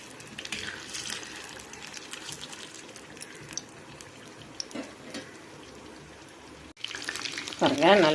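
Chicken leg pieces frying in hot oil in a kadai, a soft continuous sizzle and crackle with occasional pops, growing louder near the end.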